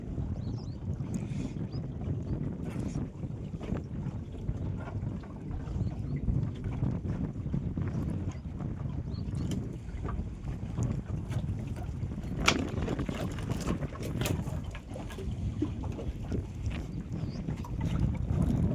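Cold wind blowing over a river in the Sundarbans during rough weather while crabs are caught with nets from a boat, a steady rushing gust noise with microphone buffeting and faint water movement, with no voices.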